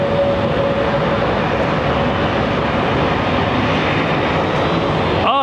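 Loud, steady roar of British Airways A380 aircraft engines at Heathrow Airport, a broad continuous rumble with a faint whine, sustained throughout without talk.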